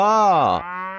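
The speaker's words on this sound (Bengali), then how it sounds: "গরু" A single cow moos once, loud and close, a short sliding call under a second.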